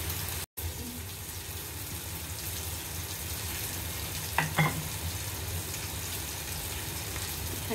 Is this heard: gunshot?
no